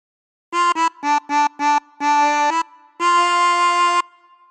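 Chromatic harmonica playing a Joy to the World phrase: a run of short separate blown and drawn notes, then two longer sustained tones, reedy and bright, played alone and close.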